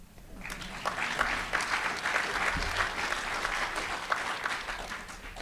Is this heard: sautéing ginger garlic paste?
no